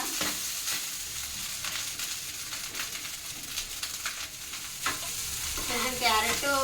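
Tempering sizzles in a pan for fried rice. Steady frying hiss runs close and loud throughout, with spoon stirring scrapes over it.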